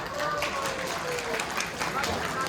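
Audience applause at Peter's 80th birthday celebration: a dense, steady wash of clapping and crowd noise that fills the whole moment, with a voice talking over it.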